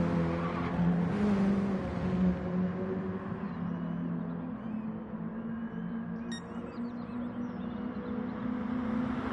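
Mini Cooper race cars lapping Goodwood Motor Circuit during a Mini Cooper Cup round, a steady loud engine drone with sustained revving tones that rise and fall as cars pass, no talk over it.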